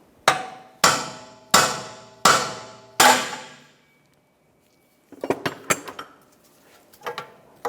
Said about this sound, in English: use a pickle fork to separate the ball joint right here